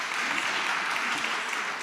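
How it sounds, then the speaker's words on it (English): Audience applause for the speakers at a G20 seminar on sustainable infrastructure finance, a brief, even burst of many hands clapping at once, close and steady without pause. "One round of applause for our"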